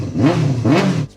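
A superbike engine fires up and revs twice in quick succession, each rising throttle blip strong and close, then settles back toward idle; no voices are heard.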